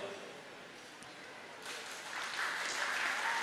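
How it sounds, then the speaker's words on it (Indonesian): Applause from an audience at a formal ceremony where a symbolic handover takes place, starting faint and building into steadier clapping midway, heard at a distance and fairly quiet. "kita kasih tepuk tangan untuk Bapak Haji Broto yang kali ini memberi"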